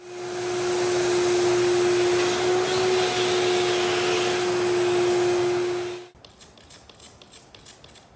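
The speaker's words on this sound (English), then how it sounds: "so we're gonna vacuum this up and see if we got the oil pulled out of the concrete" A vacuum cleaner runs steadily on a concrete floor that is being cleaned of oil after an acetone treatment, a loud constant motor whine for about six seconds before it cuts off, leaving faint clattering.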